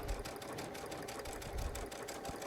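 A Baby Lock Solaris sewing machine with a dynamic walking foot stitches steadily, a fast, even mechanical whirr close by and alone.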